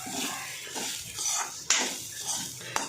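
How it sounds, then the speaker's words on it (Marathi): Grated fresh coconut is stirred in ghee in a kadhai, with a metal spoon scraping and clinking against the pan in irregular strokes over a soft background sizzle, close and fairly loud. "तर ना वल्ल खोबरं असल्यामुळं ना खाली कढईला चिटकत असतं त्याच्यामुळे ह्याला सारखं हलवत राहायचं"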